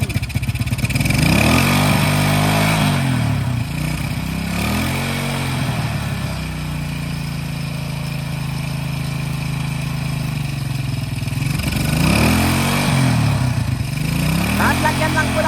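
A motorcycle engine, freshly flushed of old fuel, runs loud and steady on a test, idling with a few swells of revving near the start and end, up close.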